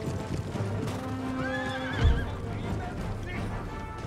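Cavalry horses in the video game Empire Total War, with continuous hoof clip-clop and a clear whinnying neigh midway, under a steady battlefield background with some voices.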